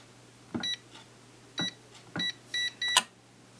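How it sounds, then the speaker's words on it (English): Electronic safe keypad giving five short electronic beeps as keys are pressed, each with a soft press click, close and quiet, the last beep slightly longer. "and beep, and that will open the safe"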